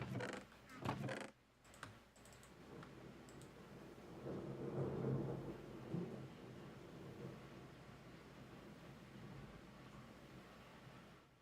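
Thunder from a summer storm rumbles in a low, rolling swell that peaks midway and slowly fades, with sharp clicks and crackles near the start and a steady background hiss.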